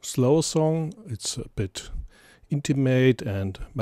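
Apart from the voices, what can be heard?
No everyday noises stand out.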